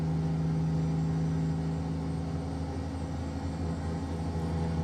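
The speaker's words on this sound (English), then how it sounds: "this is John Ruta's W900 Highway Killer, and I've got the Z-Mod sound packs in it, along with the Z-Mod's DD60 engine" Kenworth W900 truck with a DD60 engine in American Truck Simulator, a steady, loud diesel drone with a strong low hum holding constant throughout, no talk.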